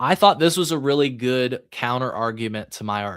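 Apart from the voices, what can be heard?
No everyday noise stands out behind the speech.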